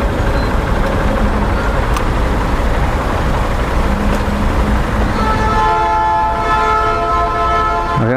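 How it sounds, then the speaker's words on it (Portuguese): A train rumbles past nearby on a street crossing in Natal, Brazil, with a steady, heavy roar, and its horn sounds out in a sustained blast toward the end. "Vem um trem aí."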